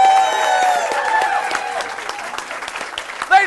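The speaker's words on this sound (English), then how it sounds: "So what we need from you guys is a big round of applause to get us motivated." An improv show audience breaks into a big round of applause, a dense burst of clapping that fades slightly over a few seconds, with a voice breaking through near the end.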